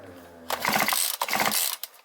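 Two bursts of rapid mechanical compression popping and clattering as a brushcutter's small petrol engine is pulled over, loud and close, with a brief low hum beforehand.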